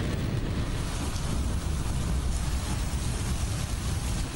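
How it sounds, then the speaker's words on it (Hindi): Heavy, relentless rain pours over Lahore during a prolonged downpour, a dense, steady hiss of water that stays constant and fairly loud throughout with no break. "मूसलाधार धुआंधार 7 घंटे की मुसलसल बारिश ने लाहौर को लाचार कर दिया।"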